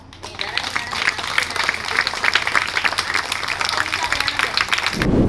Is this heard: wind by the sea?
no